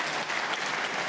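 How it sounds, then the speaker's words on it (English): A short burst of audience applause greets a delicate snooker shot at a 2019 Shoot-Out match. The clapping is dense and steady, heard from a crowd across the arena. "Applause for a delicate touch into the reds."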